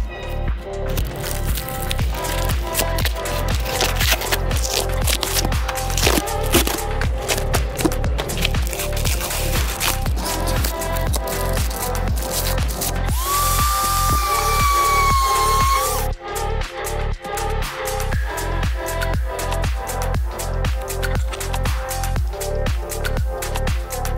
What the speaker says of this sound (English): I'm gonna try to peel everything off now and sand it.